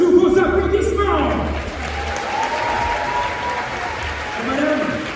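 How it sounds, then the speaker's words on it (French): A crowd applauds at a staged Gauls-versus-Romans match, steady clapping under a speaking voice and a low humming tone, a little louder at the start and the end. "Levez-vous, madame, sous vos applaudissements."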